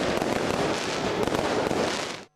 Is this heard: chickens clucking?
no